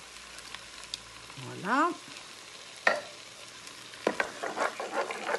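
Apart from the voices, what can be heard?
tomato pulp being added to the hot pan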